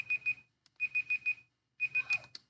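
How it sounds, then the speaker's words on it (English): A timer alarm in the Skylanders video game beeps in three bursts of rapid, shrill electronic tones, with brief quiet gaps between the bursts, loud and clear with no talking. "That is a timer,"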